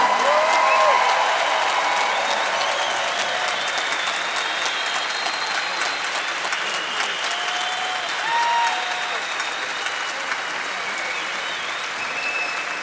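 Sustained audience applause at a conference session for the dedication of the Bahá'í temple in South America, a broad even wash of many hands clapping throughout, with faint tonal sounds drifting above the crowd.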